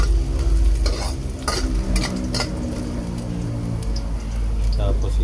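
Ginger browns in a frying pan, giving a steady sizzle broken by repeated sharp scrapes and clacks from a spatula stirring. A voice talks over the cooking noise.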